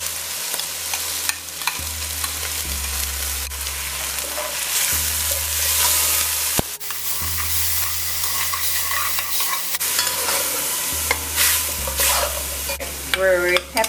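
Ground onion fries in a pot with a steady, loud sizzle and hiss that carries on throughout, broken by the scrape of stirring and a low background hum that cuts in and out.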